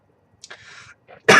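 A single sharp cough bursts out after a couple of soft breaths or throat sounds, close and loud.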